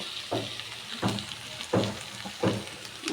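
Taro flowers fry with shrimp in a pan, a low sizzle broken by about five rhythmic stirring scrapes spaced roughly evenly, close and with no talk.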